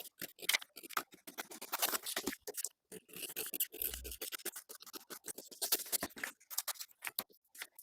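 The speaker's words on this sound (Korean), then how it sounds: "세로선들 중에서 한쪽을 커팅해 줍니다." Scissors cut along a paper pattern for a tailored collar jacket with side panel, a close, quiet series of crisp snipping strokes in an uneven rhythm with brief pauses, without speech.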